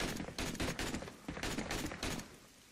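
A video game gun fires rapid bursts at zombies, a dense clatter of shots that is moderately loud and close, with short gaps between the volleys.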